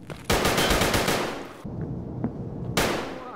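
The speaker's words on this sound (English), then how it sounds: "That's me shooting." Gunfire in Escape from Tarkov, two loud sustained automatic bursts from close by separated by a short gap of quieter ambience and faint distant shots, with no talk.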